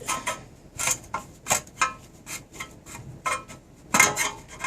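Flathead screw being driven into a Cub Cadet LTX 1045 lawn tractor muffler, a series of short, rasping metallic scrapes and clicks, close and fairly quiet, in an irregular rhythm.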